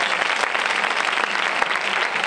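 Crowd applause at a sports recognition ceremony in San Pedro Alcántara, a loud, dense patter of many hands clapping close by without pause.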